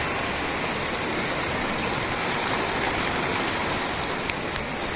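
Heavy rain pours down steadily at a rural home, a dense, even hiss of drops on surfaces that stays loud and unbroken throughout with no voices.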